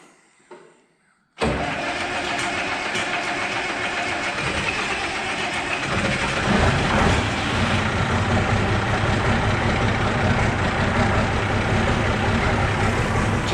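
An old farm engine, sat unused since last summer, cranks briefly and catches, then settles into a steady, loud, rough idle that grows slightly fuller partway through.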